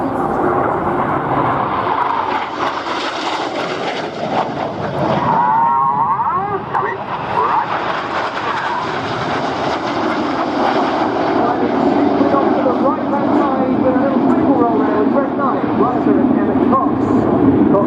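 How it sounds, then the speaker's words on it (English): A Red Arrows jet flies past at an air display at Scampton, its engine roar swelling and fading across the sky while a commentator talks throughout. "Here comes a lone jet. This is Red 9. He's going to fly through the middle of this V now."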